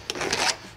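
A pencil marks a reference line across a bathtub apron during a tub install: a short, close scratchy rubbing stroke lasting under a second, quiet and alone.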